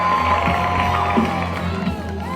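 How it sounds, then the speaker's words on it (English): A crowd cheers and whoops at a marathon finish, a loud sustained roar of many voices with a tonal announcer-like voice layered over it. "Great cheering and a great celebration"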